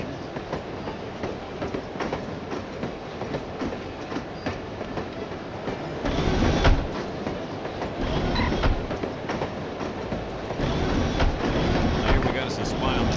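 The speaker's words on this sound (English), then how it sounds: "I love riding the train." Train carriage rolling on rails in the video game No One Lives Forever, a steady rumbling rattle with louder surges, heard under the ambient game scene with voices speaking.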